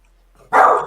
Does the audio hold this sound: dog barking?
yes